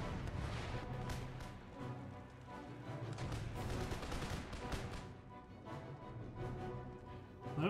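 Musket volleys in Empire Total War crackle in dense, overlapping rolling fire, loud and continuous, with scattered sharp shots and crashes throughout.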